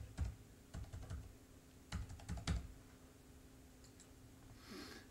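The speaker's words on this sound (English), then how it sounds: "When it comes to the phone number, just type in the digits." Someone types digits into a phone number field on a computer keyboard, a few quick bursts of clicky keystrokes with short pauses between them, close and fairly quiet, with no talking.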